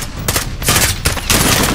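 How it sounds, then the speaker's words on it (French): Machine-gun fire in the Call of Duty Modern Warfare campaign rattles in loud, dense automatic bursts with short breaks between them. "On doit neutraliser la mitrailleuse!"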